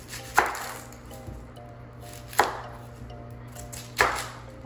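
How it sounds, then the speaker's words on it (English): A knife chops red onions on a cutting board, three sharp, evenly spaced thuds about two seconds apart, close and clear over a faint kitchen hum. "Now what we're gonna do is chop up the red onions."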